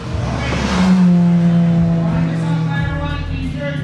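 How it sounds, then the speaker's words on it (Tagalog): Swift and Jazz race cars battle on the Tarlac Circuit Hill track, engines droning loud and close with a rising then falling pitch as they pass, voices faintly underneath. "Nagbabakbakan yung Swift, tsaka Jazz."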